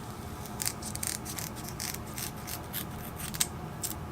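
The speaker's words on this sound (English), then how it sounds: "I'll bring it up here, lay the scissors down, and cut off." Scissors snip through a salmon while it is cut into bait, making a series of crisp, close metallic clicks and snips spaced irregularly over a quiet, faintly noisy background.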